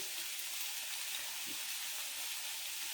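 Onions cook gently in a pan for smoky baked beans, giving a soft, even, low-level sizzle that holds steady throughout with no voices.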